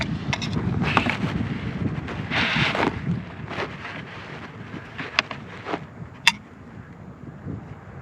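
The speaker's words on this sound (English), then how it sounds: "Ooh, fucking wind." Wind buffets a microphone outdoors beside a track during gold prospecting, producing a loud, uneven low rumble that swells and fades with gusts, plus a few faint clicks and knocks near the end.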